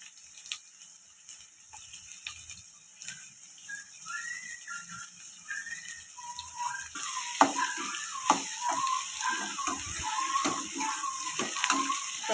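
Dried red and green chillies fry in oil, a crackling sizzle that grows louder and busier partway through, with popping spatters and a faint high whistle-like tone throughout.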